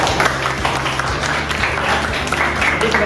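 Applause from a classroom audience during a chemistry lesson, a dense stream of many hands clapping at a steady, moderate level for about three seconds with no voices over it.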